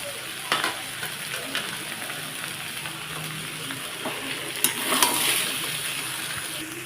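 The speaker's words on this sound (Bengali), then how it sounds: "মোচাটা বেশ সুন্দর একদম মশলা দিয়ে মাখা মাখা ভাজা হয়ে গেছে" Banana flower (mocha) coated in spices frying in a pan, a steady close sizzle with scraping stirs and a few louder spatters near the end.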